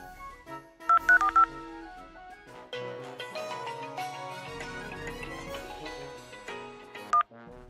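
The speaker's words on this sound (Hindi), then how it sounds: "डोल जी को फोन करूँ?" A short burst of keypad dialing tones, several quick beeps in a row, followed by a ringing tune and more beeps, fairly loud and close.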